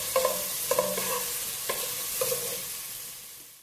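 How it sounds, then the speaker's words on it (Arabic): A spoon stirs garlic and other risotto ingredients in a sizzling pan, giving a series of distinct scraping strokes over a steady, faint frying hiss, with no talking. "We mix all together."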